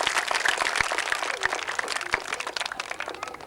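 An audience at an eye camp event in Barnala applauds to welcome the deputy commissioner, a dense, sustained patter of clapping from many hands in an outdoor crowd.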